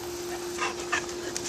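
Boxer dogs at play in a backyard, giving a few short excited whimpers and yips close by over a steady background hum.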